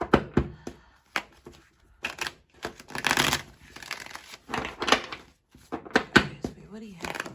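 Tarot cards being shuffled by hand in irregular bursts of riffling, slapping and crinkling, close and moderately loud, with short pauses between bursts.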